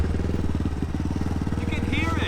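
A Honda Grom motorcycle fitted with skateboard wheels runs with its front tire spinning, a steady rapid engine pulse close by, with talk over it.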